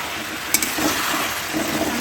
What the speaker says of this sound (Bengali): ওর জন্য 2 পিস বেগুন ভেজে দিচ্ছি